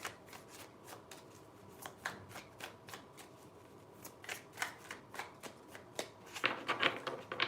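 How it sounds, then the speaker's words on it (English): Tarot cards being shuffled by hand, a quick series of crisp papery riffles and slaps in irregular bursts, close and fairly quiet with no talking, growing busier toward the end. "Three shuffles."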